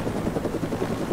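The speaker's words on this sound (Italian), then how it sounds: "Un po' buggato questo elicottero." Helicopter rotor from GTA Online, a steady dense thrumming drone that stays loud and even for the whole short stretch, with no talking over it.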